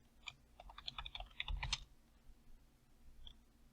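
Quiet run of computer keyboard keystrokes, a quick burst of about a dozen clicks over a second and a half, then a lone press near the end, typed at a desk during a VirtualBox setup.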